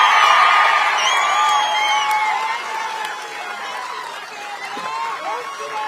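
A political rally crowd breaks into a broad wash of cheering and applause for its leaders, loud and sustained and slowly fading, with scattered shouts.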